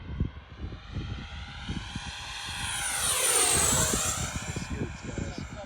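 A Freewing MiG-29 RC jet makes a fast full-throttle pass, its whining engine rising, sweeping overhead with a clear pitch drop, then fading, with wind buffeting the microphone and a person talking nearby.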